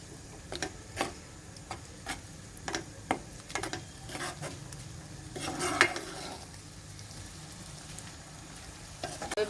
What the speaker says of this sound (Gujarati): બધું જ બરોબર મિક્સ કરી દઈશું